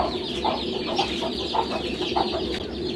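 A native country hen sheltering chicks under her wings clucks in short, soft bursts, several low clucks spaced irregularly over a constant poultry-farm background hum.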